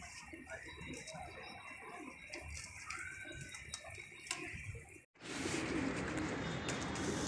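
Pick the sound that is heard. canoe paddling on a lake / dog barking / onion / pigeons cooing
pigeons cooing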